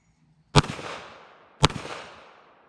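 Two loud, sharp shots from a Kel-Tec PMR 30 pistol ring out about a second apart, each followed by a long, fading outdoor echo.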